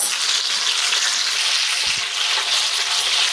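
Ossobuco meat searing in a hot pan gives a loud, steady sizzle and crackle of spitting fat, continuous and close throughout with no voices.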